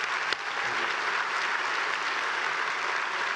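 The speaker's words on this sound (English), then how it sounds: "A round of applause for him." Audience applause for athlete Donovan Brazier at an awards presentation, steady dense clapping from a crowd, moderately loud and continuous throughout.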